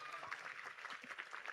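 Steady audience applause at a university gathering, a dense patter of clapping hands holding even throughout, moderately distant with no clear voices on top.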